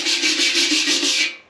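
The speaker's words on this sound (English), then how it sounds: "This is my brush for cleaning up welds. And it actually did a great job of getting this paint remnants off." A wire weld-cleaning brush scrubs old paint off the fuel tank of a 1973 Honda CB450 cafe racer. It makes a close, steady, raspy scrubbing in quick back-and-forth strokes.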